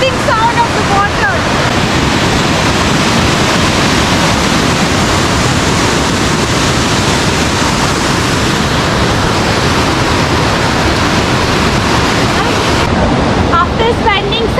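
Water rushes steadily down Eagle Falls near Lake Tahoe at sunset, a loud, constant broadband roar filling the whole stretch with no pauses.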